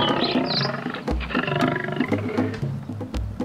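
A male lion roars loudly and close, with deep throaty bellows followed by a series of rhythmic low grunting pulses. The roaring is heard alone, with no talk.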